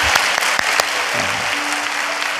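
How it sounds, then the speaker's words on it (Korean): Church congregation applauding during a service, a steady wash of clapping with a few sharper claps standing out near the start and a faint sustained tone joining partway through. "우리 박수로 격려하겠습니다."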